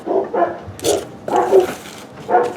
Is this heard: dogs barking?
yes